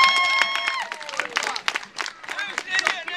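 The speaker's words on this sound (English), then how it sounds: "Give him a round of applause." An audience at an English country backswording final claps and cheers while loud voices call out over the top, making a busy, mixed crowd noise at close range.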